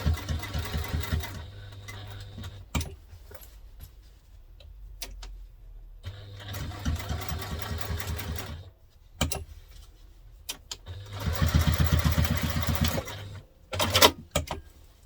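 Sewing machine back stitching a cross-body crosspack bag in short bursts of fast stitching separated by pauses and clicks, close and fairly loud.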